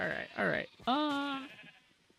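Sheep bleating in the game Minecraft, two short wavering bleats followed by a longer, clear, steady bleat, close and fairly loud, with a faint background hum.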